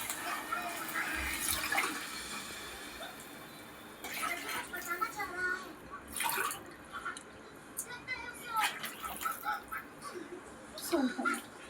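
Water poured into a cooking pan while making upma, in bursts of splashing and trickling spread across the clip over a quiet kitchen background.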